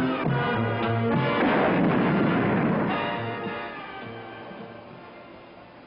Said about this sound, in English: Ready, aim, fire! The torpedo heads for a Batfink bullseye.